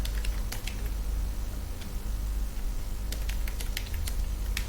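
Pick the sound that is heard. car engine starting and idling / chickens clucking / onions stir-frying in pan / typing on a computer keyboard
typing on a computer keyboard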